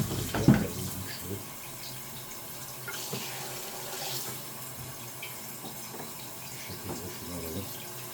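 Mains tap water runs steadily through a carbon filter, a soft continuous hiss and trickle after a brief knock at the start.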